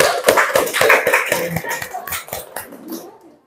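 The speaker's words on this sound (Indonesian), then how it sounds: "Oke, silakan tepuk tangan ya." Children in a classroom clap in quick, loud rhythmic bursts that gradually thin out and fade to silence, with a little chatter mixed in.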